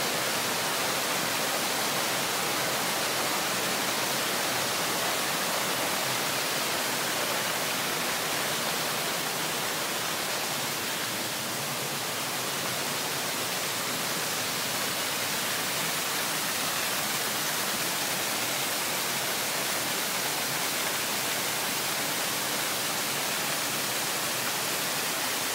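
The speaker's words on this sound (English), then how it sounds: "That's the waterfalls in Ambleside." A waterfall in Ambleside roars as a steady, dense rush of falling water, loud and unbroken from start to finish with no voices.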